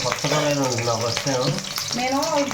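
Green chillies fry in oil in a wide wok with a continuous bright sizzle, while a voice talks over it throughout.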